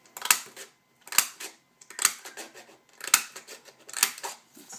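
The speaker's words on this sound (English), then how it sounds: "Some purple glitter paper. And I'm going to punch out a few hearts." A paper punch cuts hearts out of purple glitter paper in five crisp, close punches, each a sharp snapping clunk evenly spaced about a second apart, with no talking.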